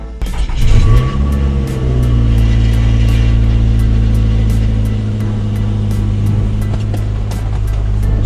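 A Nissan Altima engine idles steadily after its trouble codes are cleared, following a random multiple-cylinder misfire, giving a loud, continuous low hum close up with a slight rise in revs at the start and no talk.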